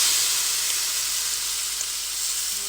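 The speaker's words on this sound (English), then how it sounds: "I'm gonna give it a quick reverse sear on the stove in my cast iron grill pan" A steak reverse-searing on a smoky-hot cast iron grill pan on the stove gives off a loud, steady sizzle and hiss, close up and with no talking.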